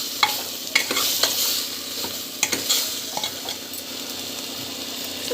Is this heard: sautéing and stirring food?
yes